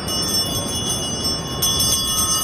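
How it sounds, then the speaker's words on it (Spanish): Small handbell on an ice cream vendor's cart on a Chicago street rings steadily with bright, sustained tones, a few stronger strikes near the end, over constant street noise. "Dale ahí a la campanilla."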